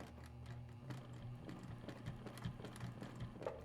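A sewing machine stitches down a marked line while quilting a spider web design, giving a steady, close mechanical whir with rapid regular needle ticks throughout.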